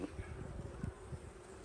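Honeybees buzz faintly around an open WBC hive during a brood inspection, a low droning hum with a few brief louder passes close by.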